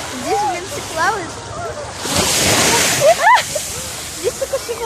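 Strong sea waves break and wash near the shore, a surging rush swelling in the middle, while someone talks over the water.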